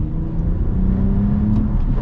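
A 2024 Toyota Camry TRD in sport mode pulls hard under acceleration, a loud, steady low engine drone with a rising tone heard from inside the cabin, no talking.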